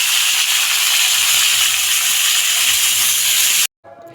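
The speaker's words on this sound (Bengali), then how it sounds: "তেলটা যেহেতু গরম হয়ে গেল, শুটকি মাছটাও একটু ভাজা হয়ে গেল, তারপরে কিন্তু দিয়ে দিলাম আলুগুলা" Potatoes hit hot oil in a kadai where dried fish is already frying, giving a loud, steady hiss of sizzling that runs without a break and then cuts off abruptly near the end.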